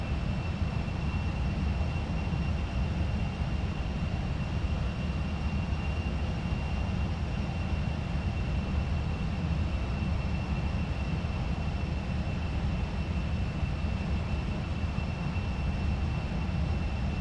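Virtavia C-17 Globemaster transport jet in X-Plane 11 on approach to a narrow runway in strong wind: a constant, loud engine roar and whine, steady and unbroken, with no voices.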